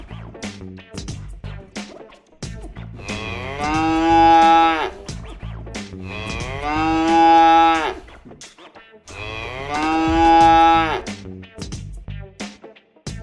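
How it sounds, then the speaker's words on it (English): Three long, deep moos from a cow, evenly spaced and loud, with clattering and rustling noises between them. "cow cow"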